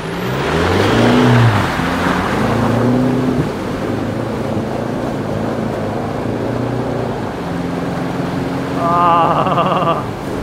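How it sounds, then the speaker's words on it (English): A 4WD in diff lock churns through deep mud on a track in Barrington Tops National Park, its engine revving hard in a loud, sustained roar that surges near the start and again toward the end. "Drive, do a bit of cog grabbing, diff lock, and give it a rev."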